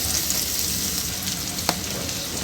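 Chopped onion, green chili and spices fry in a pan with a steady close sizzle and a brief clink of stirring near the middle.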